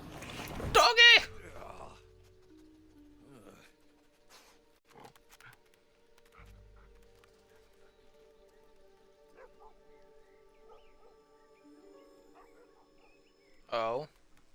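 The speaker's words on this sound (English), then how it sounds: "Doggy!" In a video game, a dog barks in a quick, loud burst near the start, with a second bark sounding near the end. Game music and quiet effects hum between the barks, and a person talks briefly.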